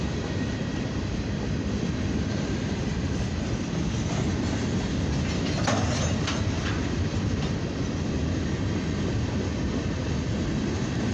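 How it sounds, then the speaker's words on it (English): A long CSX coil freight train rolls northbound past a crossing near Lima, a loud, steady roar of wheels and cars with faint clickety-clack throughout. "CSX train, northbound from Cincinnati up towards the Deschler"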